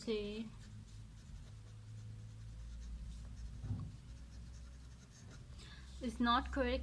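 Pen writing out a maths answer on paper, a soft, faint scratching running quietly beneath a voice speaking at the start and end.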